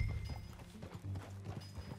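Horse hooves clip-clop at a steady walking rhythm in Red Dead Redemption 2, close and moderately loud over a low ambient rumble, with faint tonal game sounds above.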